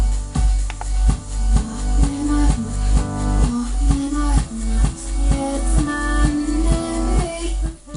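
Music comes from a Numark NDX 400 CD player running its reverse playback function, so the track plays backwards with a steady, loud pulsing beat and smeared backwards-sounding tones throughout. Nobody speaks.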